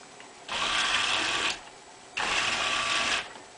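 Small motors in an Arduino-driven Roomba robot whir in two separate bursts of about a second each, a close buzzing hum with a quiet pause between them and no one speaking.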